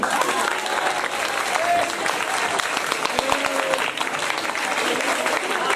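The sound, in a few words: applause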